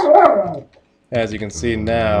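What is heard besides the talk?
dog barking in the background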